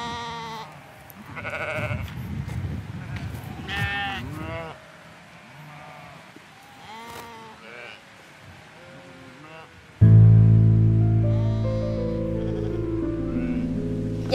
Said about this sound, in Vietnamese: Đếm giúp tôi bầy cừu này xem bao nhiêu con.